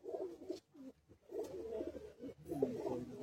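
A breeding pair of pigeons at a home loft, a kaldum-type male and a pure kotasi-line female, coos in soft, rolling bursts, quiet and close with short pauses between calls.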